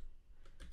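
Quick, soft keystrokes on a computer keyboard while entering a Jupyter magic command, a brief faint burst of clicks close by.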